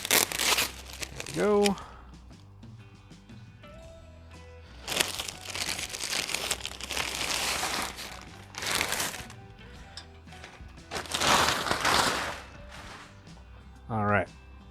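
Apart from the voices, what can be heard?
cutting tape and handling packaging of Yakima cargo basket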